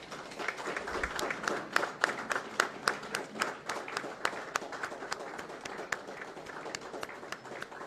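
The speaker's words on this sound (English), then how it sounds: "I want you to rise up and then clap for at least 1 minute for Sirifo for having put this together" Audience at a staff retreat and award ceremony applauding steadily, many hands clapping in a dense, continuous patter that stays fairly even throughout with occasional sharper claps standing out.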